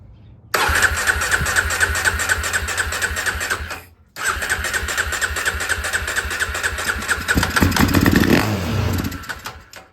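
A Polaris Predator 500 ATV, left sitting outside and jump-started from another battery, cranks briefly, pauses, then catches and runs rough and loud, revving unevenly near the end before cutting out.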